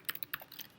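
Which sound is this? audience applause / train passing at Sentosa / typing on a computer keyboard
typing on a computer keyboard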